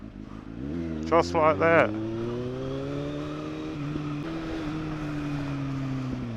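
A motorcycle rides along a bus lane, its engine rising through a few quick revs and gear changes before settling into a steady climbing drone, close and prominent, with a brief spoken remark over it.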